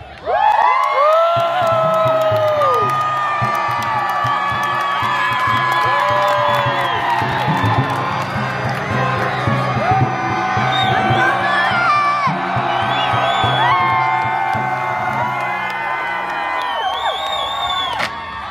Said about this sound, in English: Cheer for Sir Lilith!